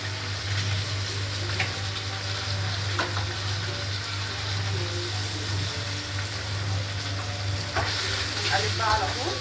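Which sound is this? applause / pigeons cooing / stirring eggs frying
stirring eggs frying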